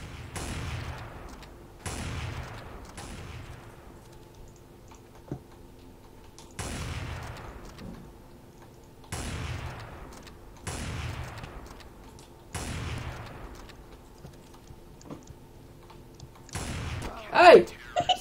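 Gunfire in the shooter game Counter-Strike Source comes as evenly spaced single sharp shots, about five in a row, with a faint voice and clicks near the end.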